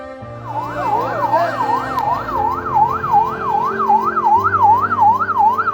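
A wailing ambulance siren sweeps up and down in a steady, rapid cycle outside a hospital in Indonesia, loud and close, with a vehicle engine rumbling underneath.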